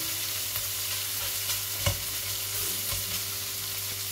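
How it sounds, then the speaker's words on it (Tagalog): Pork browning in a pan for a vegetable and pasta stir fry gives a steady close sizzle and frying hiss, with a few small clicks and stirs and no talking. "Pinapapula-pula ko saglit ba yung karne"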